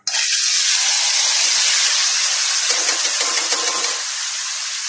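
Curry leaves and garlic masala hit hot oil with a sudden loud sizzle, settling into a steady, bright crackling hiss that eases slightly toward the end.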